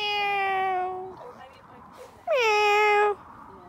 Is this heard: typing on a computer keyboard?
no